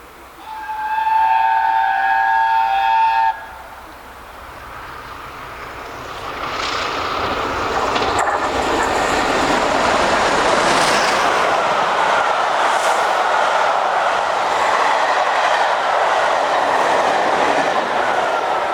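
Steam locomotives Bittern and Tornado pass a station platform, opening with a loud multi-tone whistle for about three seconds, followed by the building roar and rumble of the trains rushing through, sustained and close to the end.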